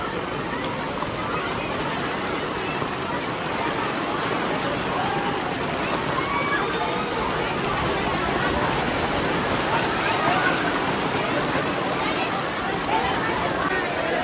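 Sudden heavy storm rain pours steadily onto a tent at an outdoor religious gathering, a dense unbroken hiss with splashing water, while people talk under the downpour.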